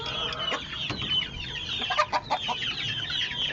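Hens and pullets of a Peruvian cross breed cluck softly in a small poultry pen, giving a scatter of quiet, overlapping clucks and short calls at close range.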